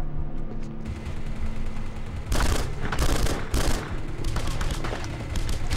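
Turrets fire in The Punisher on PS2, a dense, loud rattle of gunfire that swells into several heavy bursts of shots over a low rumbling background, with no talking.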